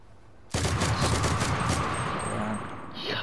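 Loud burst of rapid gunfire from a video game, starting abruptly and rattling continuously for nearly three seconds with a slight trailing echo at the end.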